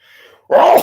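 A single sharp sneeze bursts out close to the mic during a music podcast conversation, preceded by a faint breathy intake.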